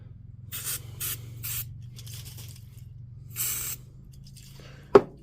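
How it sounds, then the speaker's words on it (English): Aerosol brake cleaner hisses in several short bursts onto a DeWalt DCN660 cordless nailer, with a longer spray near the end and a sharp knock closing it, close and alone over a steady low hum. "again, brake cleaner. That's going to clean her up a treat"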